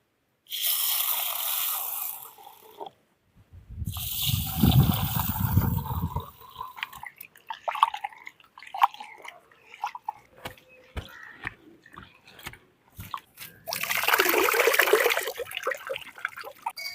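Water running and splashing while one cup of rice and one cup of urad lentils are rinsed clean in a vessel, with bursts of pouring separated by pauses and scattered clinks and drips.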